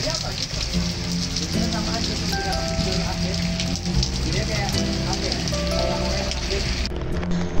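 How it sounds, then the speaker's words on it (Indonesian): Heavy rain pours down steadily and loudly on a mountain camping trip near Merapi, a dense continuous hiss with occasional tonal sounds mixed in. "hujan pun mulai turun dengan deras"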